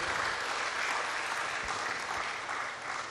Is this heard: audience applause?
yes